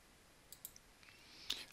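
Computer mouse clicks made while working in Autodesk Inventor CAD software: a few faint, sharp, isolated clicks spaced irregularly over a quiet background, with no talking.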